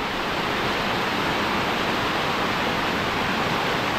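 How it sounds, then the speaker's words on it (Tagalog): The strong current of Gabur Gabur Falls in Peñablanca, Cagayan, roars as a loud, dense, continuous rush of falling water, steady from start to finish with no voices. "Ang lakas ng agos tubig eh."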